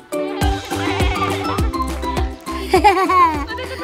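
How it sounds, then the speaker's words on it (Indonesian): Several sheep bleat in quick succession while feeding, the calls loud and close with short gaps between them and a faint tinkling mixed in. "Makan yang banyak ya domba-dombaku tersayang."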